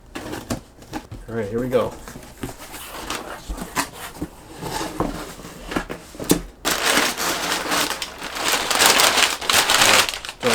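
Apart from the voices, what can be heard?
X-Acto knife cutting open a cardboard box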